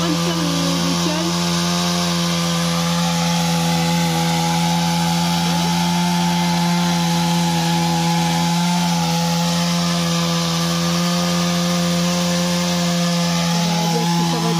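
A saw cuts through wood to make wedges, a steady loud grinding drone with a constant mechanical hum running unbroken throughout, with no talk.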